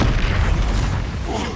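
An Expulso spell explodes in Hogwarts Legacy as a loud, close boom, a dense rumbling blast that fills the moment and then tails off quickly.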